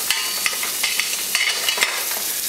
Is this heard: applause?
no